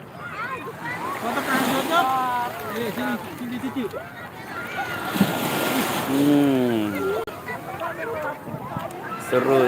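Ocean waves wash steadily at Ancol beach, a continuous surf hiss heard beneath people chatting nearby throughout.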